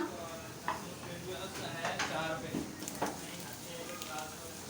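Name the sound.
vegetables frying in a pan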